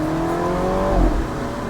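An F56 Mini Cooper S engine accelerates up close, rising in pitch and then dropping briefly at a gear shift before pulling again, with no talking.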